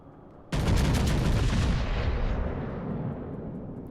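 A naval gun firing an AP shell in World of Warships: Legends lets off one sudden heavy boom, then a long rumbling roar that slowly fades.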